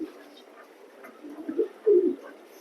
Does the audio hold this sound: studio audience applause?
no